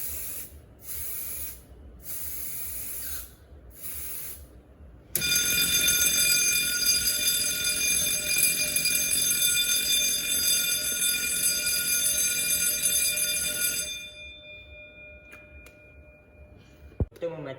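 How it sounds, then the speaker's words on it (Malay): A smoke detector in a smart window-grille system goes off in a demonstration: a few short beeps at first, then a loud, continuous high-pitched alarm tone for about nine seconds before it cuts out. "Saya akan tunjukkan contoh bagaimana pengesan asap berfungsi."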